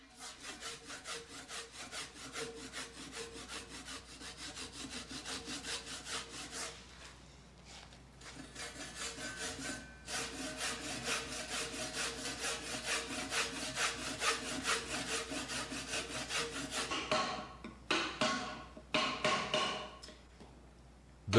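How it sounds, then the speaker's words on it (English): Steady rhythmic rasping of a hand saw making diagonal cuts in a wooden rafter for a Japanese joint, close and continuous, with brief pauses and a few final strokes near the end. "Make diagonal cuts with a saw."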